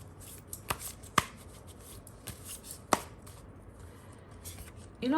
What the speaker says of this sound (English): I am hearing bubble bath when I was shuffling the cards.